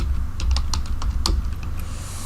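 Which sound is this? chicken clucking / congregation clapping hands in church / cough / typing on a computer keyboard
typing on a computer keyboard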